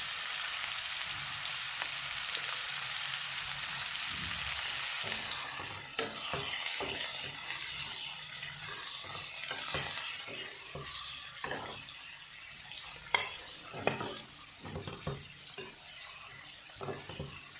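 Banana flower and chopped potatoes fry in a pan for Assamese koldil, giving a continuous moderate sizzle. Scraping stirs and occasional utensil knocks grow more frequent in the second half.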